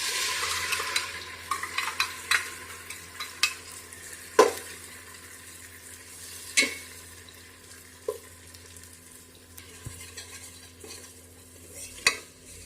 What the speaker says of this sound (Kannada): ಈರುಳ್ಳಿ ಫ್ರೈ ಆಗಿದೆ. ಅದಕ್ಕೀಗ ರುಬ್ಕೊಂಡು ಇಟ್ಕೊಂಡಿರೋಂಥ ಪೇಸ್ಟ್ ಏನಿದೆ ಅದನ್ನ ಈಗ ನಾನು ಹಾಕ್ತಾ ಇದ್ದೀನಿ.